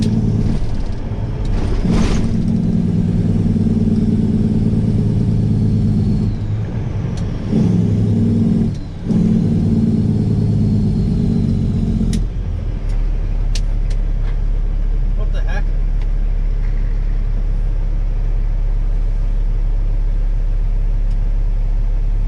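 An old Peterbilt 389 truck drives along a road, its engine a steady low rumble throughout, with people talking over it and the engine note dropping partway through.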